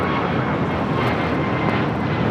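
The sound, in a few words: airplane taking off at LAX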